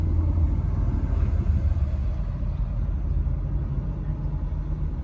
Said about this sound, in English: there's a bus coming, it's going to be really loud.